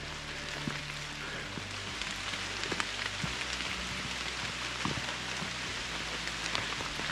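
Rain falls steadily on a muddy hiking trail, a dense even patter of drops with scattered closer taps, close and moderately loud, no voices.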